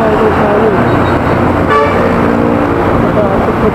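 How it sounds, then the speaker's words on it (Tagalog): Dense road traffic roars close by with engines and tyres rumbling continuously, while brief car horn toots cut through around the middle and a voice talks faintly underneath. "Traffic na ito."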